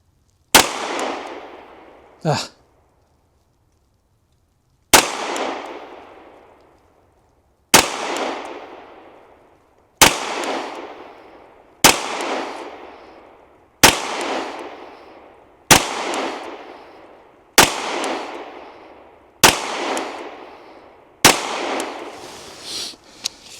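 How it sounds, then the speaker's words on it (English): A Canik Mete SFT pistol fires at a target about 10 yards away on a range, with ten loud, close shots spaced roughly two seconds apart, each ringing out in a sharp echoing decay, and a brief clack between the first two. "We'll do two 5-shot groups and we'll see how we do with that."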